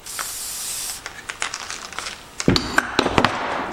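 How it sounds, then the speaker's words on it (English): Oil sprayed from an aerosol can into the transmission of a Homelite T12 chainsaw: one long hiss, then a series of short spurts, close and loud, with light clicks and taps of handling near the end. "Spray some oil in there."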